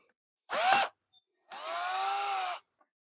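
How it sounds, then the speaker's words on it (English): A power drill drives screws while a trunk is fitted on a 2012 Honda NC700X motorcycle. Two loud, close bursts of whining motor are heard, a short one and then a longer one, separated by silence. "I just hit y'all with the drill. It's super loud."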